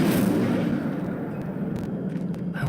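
A fiery Incendio spell bursts in Hogwarts Legacy, a loud whooshing blast that rolls off into a crackling rumble and fades over a few seconds, with no one talking.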